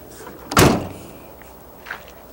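The driver's door of a 2005 Ford F150 pickup truck swings shut with one solid, close thud, followed by a faint click and quiet background.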